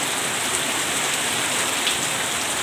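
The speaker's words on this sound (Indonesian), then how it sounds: "walaupun hujan lebat," Heavy morning rain pours down steadily on the way to an elementary school, a dense, even hiss of drops on surfaces with no let-up throughout.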